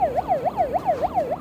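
A siren alarm on a beach wails in a fast, regular rising-and-falling sweep, loud and close, repeating about five times in quick succession with nothing else audible.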